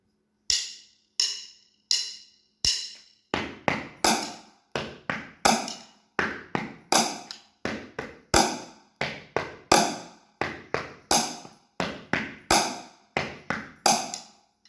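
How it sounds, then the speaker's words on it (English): Chair drumming without hi-hats, a rhythmic pattern of sharp hits on a chair, starting with sparse single strikes and settling into a steady repeating groove of close, crisp taps and knocks, with no voices. "this is how it's supposed to sound on a chair drumming kit"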